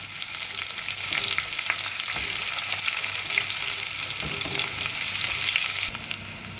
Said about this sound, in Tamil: பெரிய வெங்காயம் கொஞ்சம் சேர்க்குறோம்.